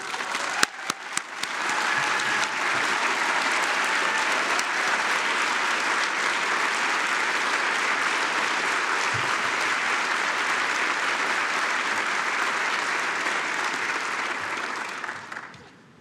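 A few scattered claps swell into full, sustained audience applause in a large hall for award recipients at a space symposium opening ceremony, holding steady for many seconds before fading out at the end.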